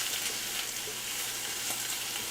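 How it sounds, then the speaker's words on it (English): Vegetables sear and sizzle in a hot pan while being stirred, a steady dense hiss of frying with soft scraping movements, close and continuous with no talking. "so we're going to give this a stir"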